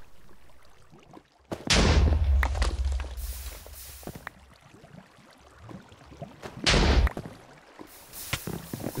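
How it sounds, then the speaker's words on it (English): Explosions go off in water in the Minecraft modpack Project Ozone 3, two loud deep booming blasts with rumbling tails, separated by quieter muffled thuds. "Oh, but water is going to resist the explosion."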